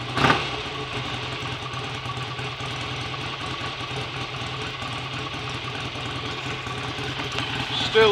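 BSA A65 Lightning motorcycle, freshly rebuilt, running with a steady, uneven idle throb after a sharp catch at the start, close and continuous; a person talks over it.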